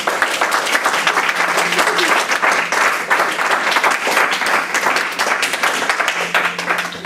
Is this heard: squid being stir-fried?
no